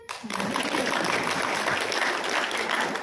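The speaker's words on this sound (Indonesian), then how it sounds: "Tepuk tangan." Applause bursts from a seminar audience in Bandung, a brisk wash of many hands clapping that starts abruptly and holds steady for a few seconds.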